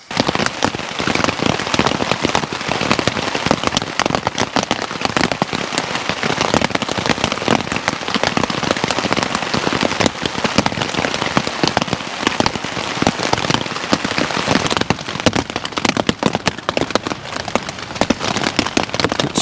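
Heavy rain pounding on an MSR Elixir 1 tent during a stormy wild camp at night, a dense, constant close patter of drops on fabric with sharper individual hits, no voices.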